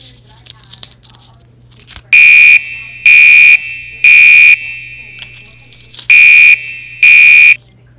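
A Gentex Commander horn strobe on high volume sounds during a fire alarm system test in a building hallway, giving five loud, evenly spaced blasts about half a second each, with a steady low hum underneath.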